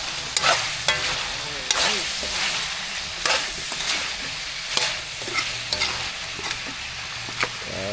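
Pork frying in a pan as its fat renders during a tamarind dish, with steady close sizzling and repeated sharp scrapes and knocks of a utensil stirring, and no talk.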